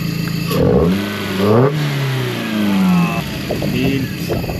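2005 Chevrolet Matiz 1L engine revving in short rising and falling bursts, close and loud, with audible air intake rush over the idle.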